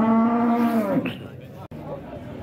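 A cow at a busy cattle fair in Dois Riachos, Alagoas, gives one loud, drawn-out low moo that fades into the murmur and clatter of the market crowd.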